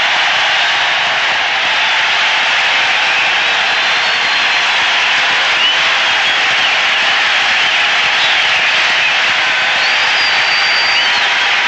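Baseball stadium crowd at a 1986 Giants at Astros game during a no-hitter, a loud sustained roar of cheering and applause filling the whole stretch without letup.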